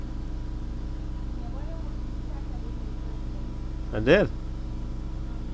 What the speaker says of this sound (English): That's just the usual rough running 7-cylinder